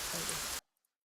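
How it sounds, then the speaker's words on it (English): Steady rain hiss in the Call to Arms war game running a graphics mod, dense and even, cutting off abruptly into silence. "I like the rain already"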